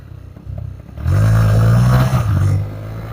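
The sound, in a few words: motorcycle engine sputtering, running out of fuel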